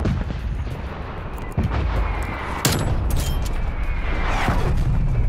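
Artillery strike explosions in Call of Duty Black Ops Cold War, a few heavy booms and cracks landing in sequence over a rumbling battlefield background.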